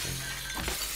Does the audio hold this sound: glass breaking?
yes